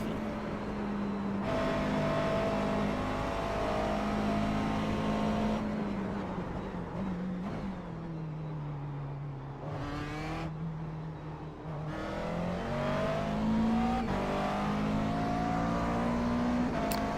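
Simulated McLaren MP4 12C GT3 race car in iRacing at Suzuka, engine revving and droning loudly and steadily through gear changes, pitch rising and falling as it accelerates and lifts, with occasional tire squeal.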